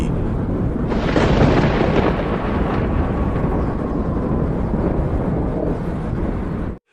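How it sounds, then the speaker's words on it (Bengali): A thunderstorm with rain in a horror cartoon: a loud, dense roar of rain and wind, with a heavy rumbling crash of thunder swelling about a second in, then a steady downpour until it stops suddenly. "বাইরে ঝড় বৃষ্টি,"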